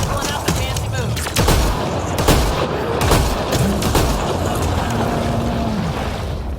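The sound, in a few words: gunfire in video game Mass Effect Andromeda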